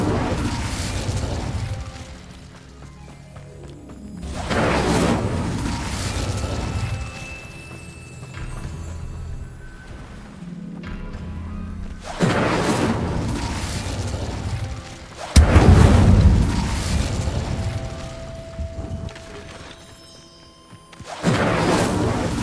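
Fire spell explosions in the video game Hogwarts Legacy, several loud booming bursts spaced a few seconds apart, each swelling and fading with rumbling low tails, one sharper heavy blast near the middle.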